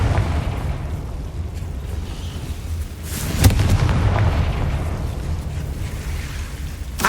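A Confringo spell blast in Hogwarts Legacy, heard as a sharp explosive burst partway through over a constant low rumbling game soundscape, with a few smaller pops around it.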